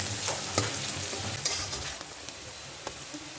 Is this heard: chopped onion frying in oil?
yes